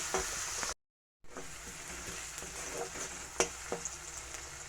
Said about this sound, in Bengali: রসুনের সাথে দিয়ে দিচ্ছি বেশ পরিমাণে মরিচ কুচি ভালো করে ভেজে নেবে